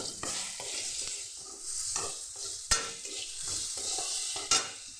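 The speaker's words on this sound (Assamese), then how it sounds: "এইখিনি অলপ ভাজি লৈ বনাম।" Vegetables sizzle in a pan as a spoon stirs them, producing repeated scraping strokes over a constant frying hiss, with a couple of sharp metallic clinks; close and fairly quiet, no talking.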